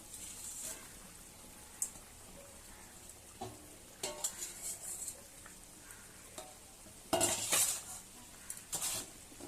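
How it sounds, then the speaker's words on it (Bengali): Fish pieces going into a pot of simmering vegetable curry with yam and greens, heard as faint scattered clinks of pot and utensil, soft stirring and a brief louder clatter and sizzle near the end. "ফুটে উঠেছে, দেখো এবার মাছগুলো দিয়ে দেবো।"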